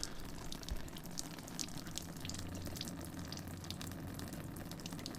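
Water runs steadily from a tap, a continuous hissing splash at moderate volume with no talking.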